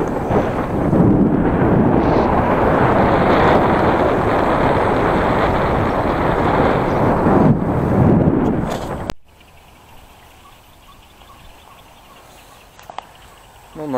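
Strong wind roars and buffets loudly for several seconds in Vietnam, then drops suddenly to a quiet, low background hiss.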